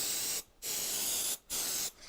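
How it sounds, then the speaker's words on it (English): Glue activator sprays onto a part of a home-built arcade fightstick in three close hissing bursts, each cut by a brief pause, with no talking. "And we'll spray the activator on"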